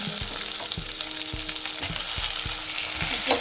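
Onion sautés in a pan for tomato mint chutney, sizzling steadily and close, while a spoon taps and scrapes against the pan at a regular rhythm.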